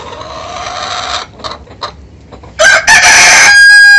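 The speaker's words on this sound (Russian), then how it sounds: "и петухи поют, и курочки поют." Leghorn hens cluck in short bursts, then a Leghorn rooster crows loudly and close, with a long drawn-out call at the end.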